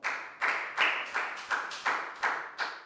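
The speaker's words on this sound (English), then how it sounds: "And another round of applause for everyone for doing an excellent job." A Year 4 math class gives a round of applause, with eight or so crisp, evenly timed claps in a steady beat and a bit of room echo.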